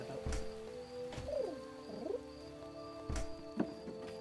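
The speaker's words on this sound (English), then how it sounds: "Also, they keep making cute bird noises." Cute cooing bird calls from creatures in the video game Starbound, a few short warbling coos rising and falling over steady game background hum, with occasional sharp clicks.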